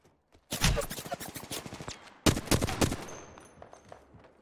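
Gunfire in the Apex Legends video game: two loud, dense bursts of rapid automatic shots in close succession, followed by a fading tail.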